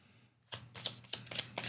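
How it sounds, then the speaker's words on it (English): Playing cards shuffled during a solo tabletop game, a few quick riffling bursts of crisp papery flutter, close and alone after a brief silence. "Shuffling the cards, and we're moving on to the last round."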